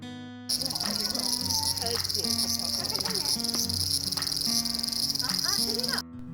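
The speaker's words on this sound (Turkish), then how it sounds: "Arkadan gelen böcek seslerine dikkat ederseniz bu sesler her yerde." Insects chirping in a garden on Enoshima, Japan: a dense, continuous high shrill with rhythmic pulsing, loud and steady, with faint scattered background sounds underneath.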